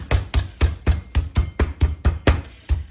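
A meat mallet pounds chicken cutlets on a board for chops: about a dozen sharp, evenly spaced thuds at a steady, brisk rhythm, close and fairly loud, with no talking.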